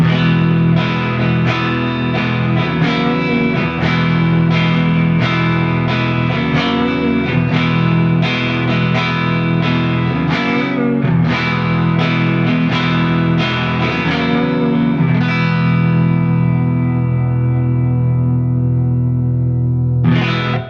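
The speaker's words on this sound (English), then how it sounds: "And of course we can have our neck humbucker by itself." An electric guitar, a Greco EG-600 on its neck humbucker pickup alone, plays a warm, overdriven, effects-laden passage of strummed chords that rings out and fades at the end, loud and up front.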